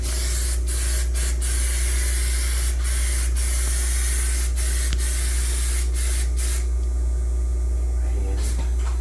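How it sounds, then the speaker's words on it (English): Repeated short hissing bursts of a spray-adhesive can, about a dozen sharp sprays at irregular intervals over a steady low hum, gluing mattress foam for boat cushions. "We're spraying some adhesive on the parts we're going to connect."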